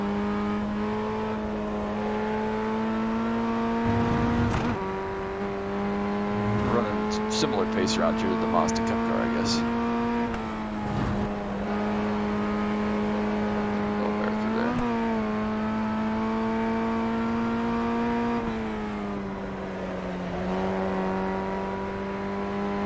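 Formula Ford 1600 race car in iRacing at Lime Rock Park, its engine droning steadily with smooth gear changes and brief tire squeals, loud and continuous under someone talking.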